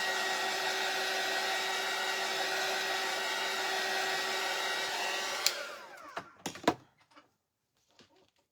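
A hair dryer blows steadily at close range for about five seconds while drying glitter paint on a holiday shelf sitter, then switches off, followed by a few sharp clicks and knocks before near silence.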